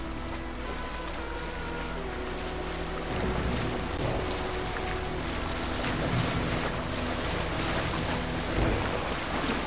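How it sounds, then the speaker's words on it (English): Rain falls steadily on open water while a ship sails in Assassin's Creed Valhalla, a constant broadband wash with low rumbling waves and a faint game music bed throughout. "Good thing it's raining, though."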